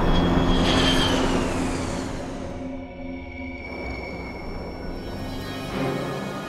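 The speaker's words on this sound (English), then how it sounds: "The Learjet carrying Payne Stewart and 5 other people is falling from the sky." A Learjet descends out of the sky, its engine a loud, steady roar with a falling whine that slowly fades, then swells again near the end.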